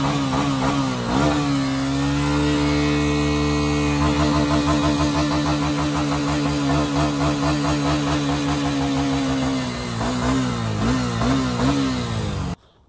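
A Honda Sahara motorcycle engine revs hard and steadily up close, its pitch climbing and holding in a loud continuous roar before cutting off at the end.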